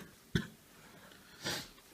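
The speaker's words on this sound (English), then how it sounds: "Sorry for the cough, guys. I have a bad one." A person with a bad cough gives one sharp close cough, followed after a short pause by a softer, breathy second cough or throat clearing in a quiet room.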